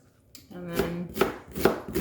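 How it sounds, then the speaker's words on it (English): A sharp knife slices thinly through onion on a cutting board, giving three distinct, close chopping knocks roughly half a second apart. "So this is how I chop it. Just slice it thinly."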